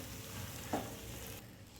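Fenugreek leaves and gram flour sabzi is stirred in a pan, producing a steady low sizzle with a brief scrape of the spoon partway through. It is close, quiet and continuous, and no one speaks.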